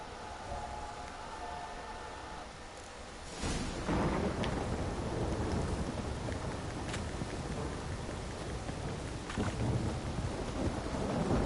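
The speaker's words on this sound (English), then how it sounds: "This downpour's a bastard, it is." Steady heavy rain pours throughout in The Witcher 3: Wild Hunt, with a loud rumble of thunder swelling partway through and lingering under the downpour.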